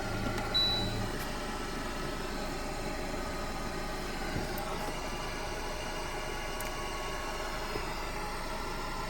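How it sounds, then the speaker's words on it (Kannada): Maruti Suzuki S-Cross car engine idling in good condition, a steady low hum that holds smooth and even throughout, with no talking. "ಗಾಡಿ ಇಂಜನ್ ನೀವು ನೋಡತ್ತೀರಿ ಸ್ಮೂತ್ ಐತಿ ಏಕ್ದಮ್ ಇಂಜನ್"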